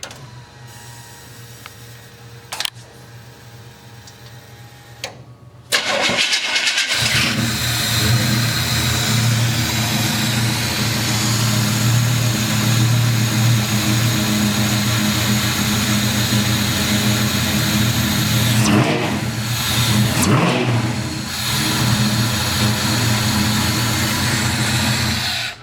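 A 1972 Chevy C10 pickup engine fires up after a quiet stretch and settles into a steady, loud, close idle, running continuously with a brief dip partway through and no talking.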